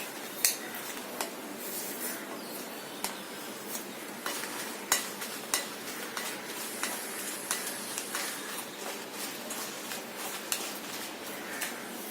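Curry leaves and tamarind roasting in a hot pan on a switched-off stove: a soft, faint sizzle with occasional light clinks and scrapes of stirring against the pan, quiet and close, no speech.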